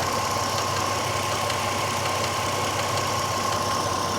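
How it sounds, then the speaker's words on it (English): A Ford Mustang convertible engine idles steadily and close by, a continuous even hum with a faint, regular clicking from the belt tensioner ticking underneath. "I hear a little clicky clacky. Maybe that's the tensioner."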